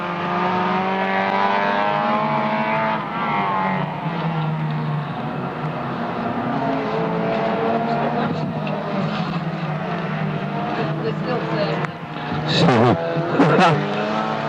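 Race cars roar down the back straight at a Rolling Thunder racing event in 2018, a loud continuous engine drone with a brief surge near the end, under a commentator's voice.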